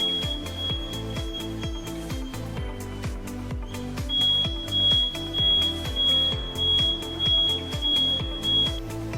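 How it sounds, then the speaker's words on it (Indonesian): A metal detector used in water quality testing sounds a high, continuous electronic alarm tone steadily over rhythmic pulsing thumps, loud and close. "lampu detektor logam akan menyala dengan terang dan alarm berbunyi dengan keras"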